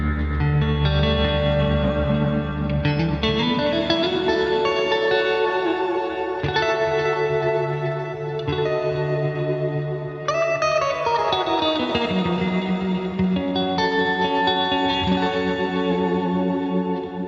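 A clean electric guitar runs through a Fender Tone Master Pro preset with reverb and delay, playing sustained, shimmering chords and notes that ring out with a spacious echo tail.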